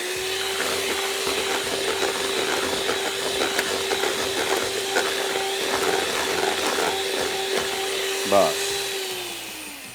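An electric mixer beats chocolate cupcake batter with a steady whirring drone that runs almost the whole time before switching off near the end, while a voice talks over it.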